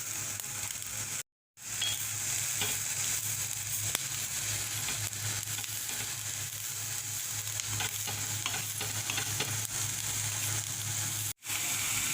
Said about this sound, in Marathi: तव्यावर खोबरं भाजून घेणार आहे.